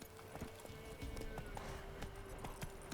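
Roach the horse galloping in The Witcher 3, quiet rhythmic hoofbeats drumming under a faint steady game ambience with a low tone, an even fast clip-clop pattern throughout.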